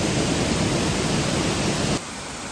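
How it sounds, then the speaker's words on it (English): Waterfall on a mossy, fern-lined hillside in the Lake District, a loud steady rushing roar close by that drops suddenly to a softer wash near the end. "And here are the beautiful waterfalls."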